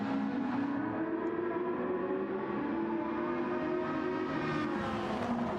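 Ferrari 458 race car in Gran Turismo 7 during a 6-hour endurance race at Yas Marina, its engine droning loud and steady at high revs throughout with a constant rising and falling tone.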